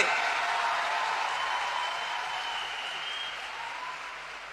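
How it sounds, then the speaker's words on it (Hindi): A crowd at a women's empowerment business gathering in India gives loud, sustained applause for Prime Minister Narendra Modi, a dense, even roar of clapping that slowly fades over several seconds. "तो एक बार जोरदार तालियां देश के प्रधानमंत्री नरेंद्र मोदी जी के लिए।"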